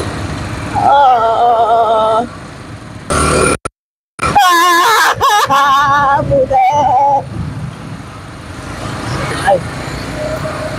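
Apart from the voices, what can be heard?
ATV engines running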